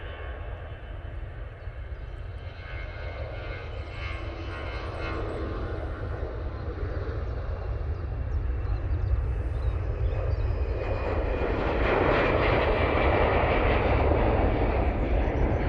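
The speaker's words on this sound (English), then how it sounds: "You also got the prop coming out." A propeller airplane taxis at Manchester Airport in low-visibility conditions, a steady engine drone and broad rumble that slowly swells louder over about sixteen seconds, heard at a distance with no talk.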